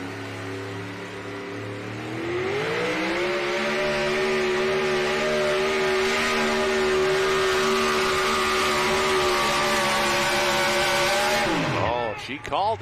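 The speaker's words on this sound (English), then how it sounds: "Final truck, modified four-wheel drives, running for Region 4 points here with the NTPA." A modified four-wheel-drive pulling truck roars down the track at an NTPA truck and tractor pull at the NC State Fair in Raleigh. The loud engine climbs in pitch, holds a sustained howl, then drops off sharply near the end.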